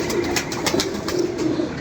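A pigeon coos in soft, repeated rounded calls, close by and fairly clear over a low background hum, with no one talking.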